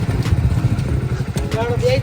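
Motorcycle engines idle and rumble steadily close by while people talk over the low engine noise.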